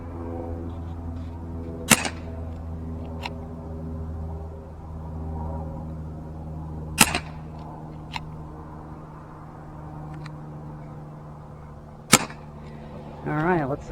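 Umarex UX 357 CO2 double-action BB revolver fired outdoors at targets a little over 20 yards away, giving three sharp, isolated cracks several seconds apart over a steady low background hum.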